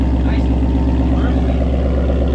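A 2019 Ford Mustang GT V8 with a Corsa Xtreme exhaust rumbles loud and close in a steady deep drone, with a faint voice in the background.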